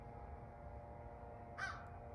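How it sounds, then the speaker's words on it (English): A crow caws once from a distance, a short harsh call over steady low background noise. "Bitch ass crow wanna make all that noise like he ain't got nowhere else to go"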